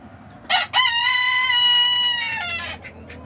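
A chicken in a coop lets out a single loud, drawn-out crow close by, preceded by a couple of short clucks.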